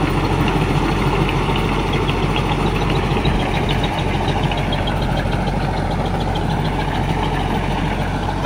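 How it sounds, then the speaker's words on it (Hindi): A Mahindra 575 tractor engine runs in first gear at a steady 1500 RPM, a loud, continuous low diesel rumble with an unchanging throb and no talking. "মিডিয়ামে, এক নম্বরে মিডিয়ামে চলছে গাড়িটা, আর 1500 RPM"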